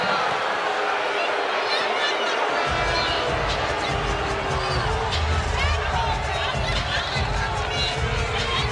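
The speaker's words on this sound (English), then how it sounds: "Another great crowd." A large crowd at a women's college basketball game, Louisville against Michigan, fills the arena with a loud continuous roar and babble, with squeaking sneakers and bouncing balls underneath and a commentator talking over it.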